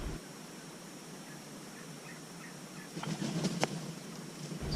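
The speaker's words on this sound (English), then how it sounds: "all those turkeys are trying to come back to roost right from my 6 o'clock" Wild turkeys gobbling as they return to roost in Colorado woods, a few faint, distant calls at first, then louder, nearer bursts of gobbling over steady outdoor background noise.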